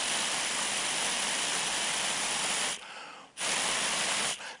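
Someone blows hard through a straw into a small homemade toy sealed with tape, making a loud, breathy, airy rush. It stops for about half a second, resumes, then tapers off.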